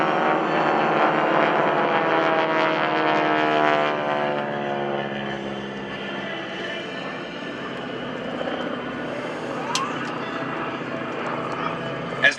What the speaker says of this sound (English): Skytype Flight of 4 will roll in for a very high angle strafe.